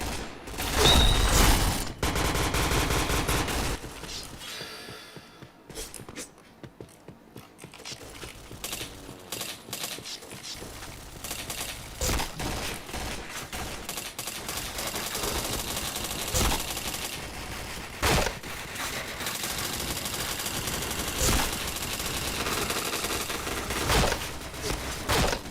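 Rapid automatic gunfire from the online shooter Point Blank, dense bursts and single shots rattling continuously and loudly, with a brief near-silent lull early on.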